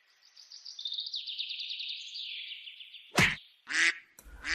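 A goose on the attack gives a long, wavering, rising call, then three sharp, loud honks in quick succession. The calls are close and there is no talking.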